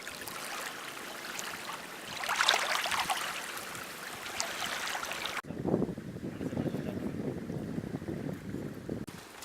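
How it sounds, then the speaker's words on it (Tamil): Sea fish are rinsed in seawater at the shore, with continuous splashing and sloshing water and gusty wind rumble. A sharp shift partway through leads into closer, heavier swishing, with no voices. "கடல் மீனா கடல் தண்ணியிலே அலசுறோம்."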